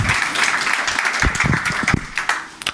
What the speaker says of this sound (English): So big round of applause to Hafshot.